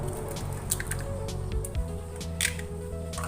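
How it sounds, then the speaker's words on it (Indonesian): Three eggs cracked and dropped one by one into a bowl while cooking bitter melon stir-fry, giving soft wet squishes and drips with light taps against the bowl over a low room hum. "3 butir telurnya kita masukkan ke dalam mangkok seperti ini"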